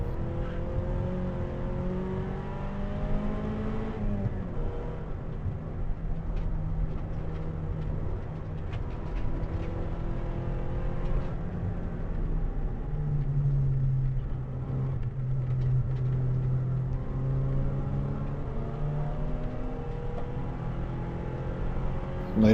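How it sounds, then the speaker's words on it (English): Racing engines on a track at Taupo, including a turbocharged Silvertop Starlet, droning steadily with rising and falling revs and gear changes, a sustained close engine note throughout. "That's Luke Hunter creeping up in his turbo Silvertop Starlet"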